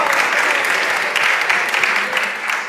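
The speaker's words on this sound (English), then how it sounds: "Clap it up for that" An audience in a live talk setting claps steadily in a dense burst of applause that holds loud throughout.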